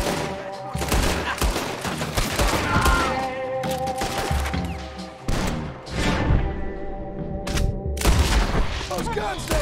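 Loud, dense gunfire from a shootout in the video game Red Dead Redemption 2: rapid overlapping shots and booms in continuous bursts, with a brief lull midway.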